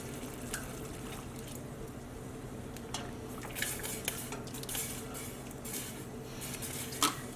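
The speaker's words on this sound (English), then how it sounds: "we're going to add our food coloring, stir it up" A spoon clinks and scrapes faintly inside a pot of near-boiling water as violet food coloring is stirred in for dip dyeing a crochet yarn blank, with a low steady bubbling underneath and a few sharper metallic taps.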